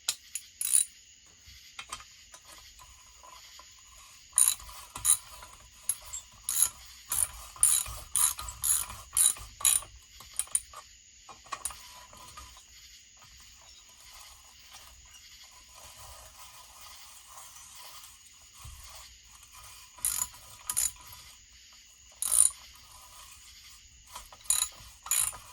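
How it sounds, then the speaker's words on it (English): A hand ratchet clicks in intermittent bursts of quick ratcheting turns while a Husqvarna 1100cd motorcycle is torn down, close and fairly quiet, with short pauses between runs of clicks. "I do it with my hand ratchet"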